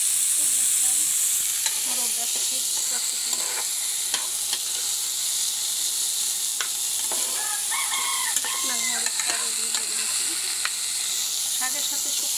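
Greens frying with dried chili and salt in a pan, a steady close sizzle with scraping stir strokes, while rooster crowing and clucking carry from outside in the background.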